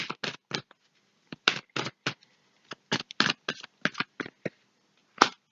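Tarot cards shuffled and drawn by hand, a run of crisp riffling bursts in quick clusters with short pauses, ending in one sharp snap, close and fairly quiet with no talking.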